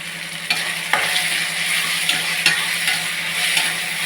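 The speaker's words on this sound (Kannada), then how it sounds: "ವೆಜಿಟೇಬಲು, ಟೊಮೊಟೊ ಎರಡು ಫ್ರೈ ಆಗೋದಕ್ಕೆ ಸ್ವಲ್ಪ ಸಾಲ್ಟ್ ಹಾಕೋಣ" Vegetables and tomato with a pinch of salt sizzle steadily in a pan, a continuous close frying hiss broken by a few sharp stirring scrapes and clicks.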